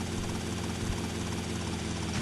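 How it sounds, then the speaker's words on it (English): A helicopter in GTA Vice City drones steadily with a constant rotor chop and engine whine, close and loud, filling the whole stretch without speech. "we're going to use a helicopter for it"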